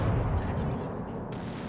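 Main battery shots from the Azuma, a Japanese tier IX premium heavy cruiser in the video game World of Warships, sound as a deep, loud booming blast that decays into a rumbling tail over less than two seconds.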